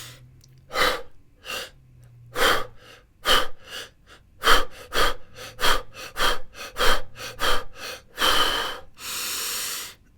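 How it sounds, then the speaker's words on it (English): Repeated breaths drawn in through the nose and mouth during a breath-control meditation exercise, a series of close, airy inhales and exhales with a final longer breath held and released, no talking. "The first thing is to grab the breathing cycle and to breathe it in"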